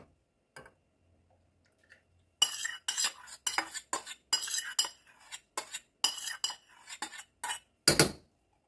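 Skin care cream ingredients stirred and mixed in a container, a quick series of sharp clinks and scrapes of a utensil against the sides, close and loud after a quiet start, with no talking.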